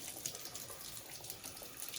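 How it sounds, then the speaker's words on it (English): Cold water runs from a kitchen tap as a faint, steady splashing stream, continuous and close by with no voices. "run the cold water tap"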